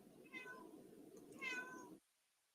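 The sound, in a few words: cat meowing, wanting to come in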